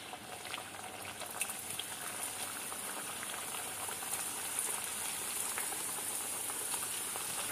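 Puri frying in hot oil, a steady, even bubbling sizzle that holds constant throughout, moderately quiet and close, with no voices.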